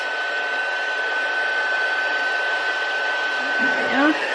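Heat gun used for heat embossing a stamped card: a steady, close whirring blower hiss with a thin whine, running continuously until a brief shift at the end.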